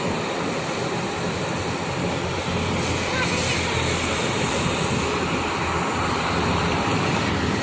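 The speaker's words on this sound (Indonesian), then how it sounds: "ini ada busnya udah berangkat menuju jam Banjar" Blue Knight 57 Trans coach bus of the Sumber Jaya Trans fleet pulling away toward Banjar, a steady broad engine and road rumble heard close and continuous, with traffic noise around and a voice speaking over it.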